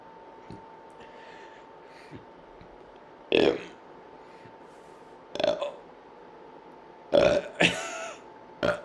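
A person burps loudly several times while reciting the alphabet backwards, four or five distinct belches spaced a couple of seconds apart, close to the microphone, with quiet spoken letters between them.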